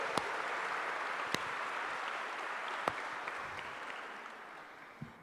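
A congregation at a church healing and deliverance service applauds steadily, a dense even wash of clapping that continues for several seconds at moderate distance, with a few sharper individual claps standing out.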